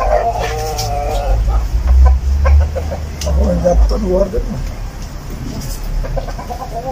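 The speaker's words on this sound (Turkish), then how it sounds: "Horoza bak. Kendini ağa zannediyor." Clucks and short calls from a rooster and other chickens sound close by, partly under nearby conversation.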